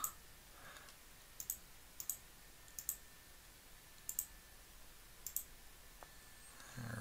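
Computer mouse clicks selecting colors in software, a few sharp, faint clicks, single and in pairs, spaced about a second apart over a quiet background.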